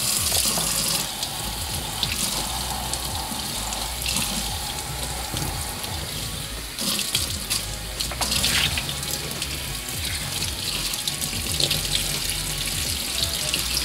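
Water pouring steadily over a garden clog shoe in a water-resistance test, a continuous splashing, gushing stream like a running tap, close and even for the whole stretch with no talk.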